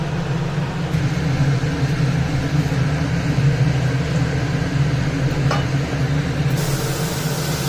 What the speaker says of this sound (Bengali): মাছটা একদম হালকা করে ভেজে নিয়েছি